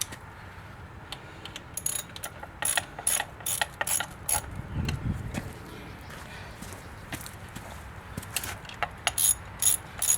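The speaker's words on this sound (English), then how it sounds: "Get them all snug back up before you really torque them down, just so everything stays aligned properly." Ratchet clicks snug bolts on the water pump of a 25 horsepower Mercury two-stroke outboard, quiet irregular bursts of ratcheting with scattered metallic taps, close by.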